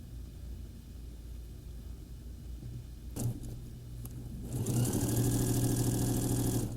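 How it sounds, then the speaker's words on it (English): An overlocker with its knife engaged stitches the center front seam of a pair of shorts, starting partway through as a steady, fairly loud mechanical whir that runs continuously to the end. "Overlock the center front."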